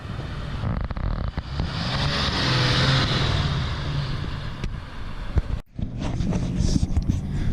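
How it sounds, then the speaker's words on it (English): A Ford Power Stroke diesel truck goes by, its turbo whistle and engine roar swelling then fading over a few seconds, heard from a nearby vehicle with road and wind noise. "Another Ford right here, power stroke going by. Listen to that turbo."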